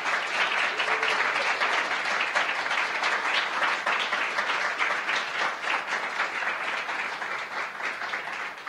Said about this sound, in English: give them all another very well-deserved round of applause